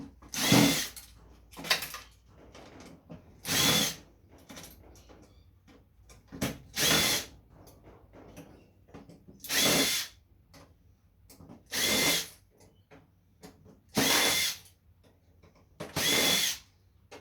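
A power tool drives out screws from a motherboard backboard in short whirring bursts, about nine separated by pauses, close and loud with quiet gaps between.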